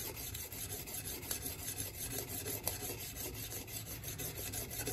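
An axe edge is rubbed over a 1000 grit sharpening stone in quick, repeated rasping strokes, close and fairly quiet, with no one talking.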